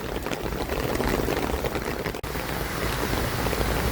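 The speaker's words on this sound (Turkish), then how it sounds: "sağdan soldan durdurulamayan su geldi bu mazgala dayandı" Rainwater runoff streams into a street drain during a downpour in Keçiören, a steady, loud, broadband rush of flowing and splashing water that continues throughout with no voices.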